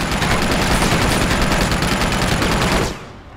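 Sustained automatic gunfire from enemies in the game Uncharted 2, a dense, loud rattle of rapid shots running almost continuously before cutting off abruptly near the end.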